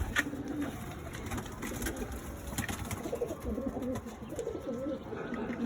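Pigeons in a Madras pigeon loft coo softly and repeatedly against a low background hum, with no clear talk.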